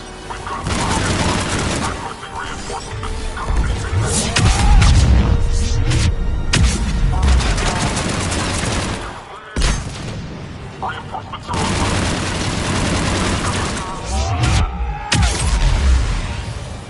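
Gunfire and blasts from Mass Effect 3 combat rattle in dense bursts, with heavy booming impacts and a brief lull near the middle, while voices talk over the fighting.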